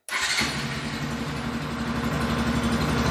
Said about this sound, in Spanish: vamos a abrir nuestro switch y prender la motocicleta